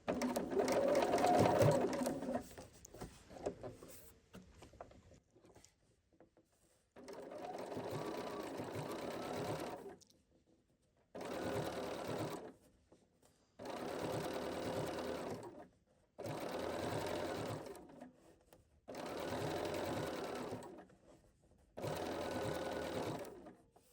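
A sewing machine stitches a blind hem using a blind hem foot, running in about six steady bursts separated by short pauses after a brief noisy stretch at the start.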